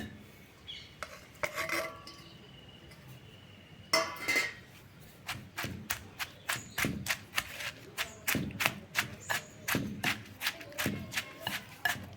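Green chillies for a tamarind urad dal chutney pounded in a stone mortar, a rapid series of sharp, close thuds in steady rhythm after a few scattered knocks, with occasional talk.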